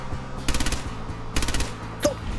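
Shoulder-mounted machine gun in Fallout 4 fires two short rapid bursts, then a single sharper shot, over a steady low game hum with no talk.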